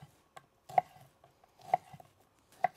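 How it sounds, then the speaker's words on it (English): A knife cuts guanciale into cubes on a board, with three distinct, quiet, close chopping knocks spaced about a second apart and soft handling sounds between them. "I'm going to start out with the guanciale and I'm going to cut it into cubes"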